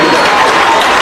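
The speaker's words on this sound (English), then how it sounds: "And Romello gets some applause from the crowd, able to get up on his own feet." Football crowd at a varsity game against Ridgewood applauding as an injured player gets back to his feet, a steady, dense wash of clapping and crowd noise filling the whole second.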